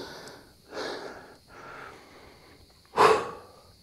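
Heavy, ragged breaths from someone out of breath while climbing the Beşparmak Mountains in Cyprus, several close exhales and gasps, the last one sharp and loud.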